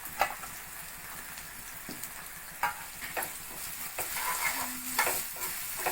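Onions and asafoetida frying in hot oil for sambar rice, giving a steady broadband sizzle with a few sharp stirring clinks and scrapes spaced through it, close and alone without voices.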